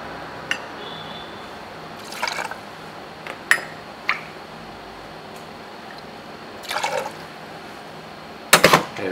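Pineapple juice is poured in short bursts for a Coco Lada cocktail at a bar, with faint liquid splashes and a few light glass clinks against a quiet room background.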